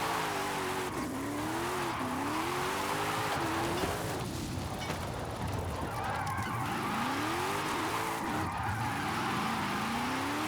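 A game car in Forza Horizon 5 holds a long drift, its engine droning steadily while tires squeal in wavering, rising and falling tones, loud and continuous throughout.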